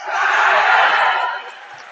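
A high school basketball crowd erupts in a loud, broad roar right after a dunk, swelling and then easing off over about two seconds, filling the gym.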